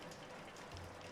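Rain in the Shadows Over Loathing game, a faint, steady patter of rainfall on a surface with no voices.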